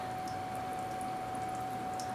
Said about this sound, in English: There's two little streams